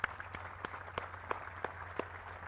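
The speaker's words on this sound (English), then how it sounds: "Let's have a round of applause for our families today." An audience at a military cadet regiment's graduation ceremony claps in steady applause, with sharp individual claps standing out over a soft, fairly distant crowd wash; no talking is heard.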